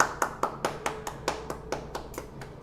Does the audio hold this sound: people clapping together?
yes